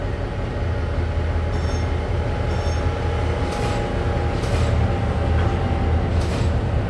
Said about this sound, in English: Cool when an AI train comes by.